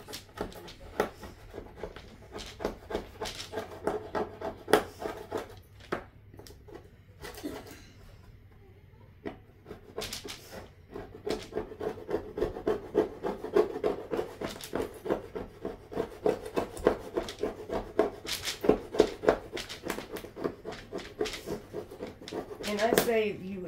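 A plastic scraper blade is dragged across a dampened board in quick, repeated scraping strokes, fairly quiet and close, with brief pauses between bursts and some soft talk.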